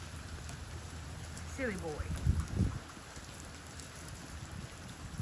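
Steady rain falls on a waterlogged yard, a continuous soft hiss under a short burst of speech in the middle.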